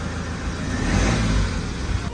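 A Tata Yodha pickup truck engine runs close by, a loud, steady mid-pitched rumble that swells briefly midway through.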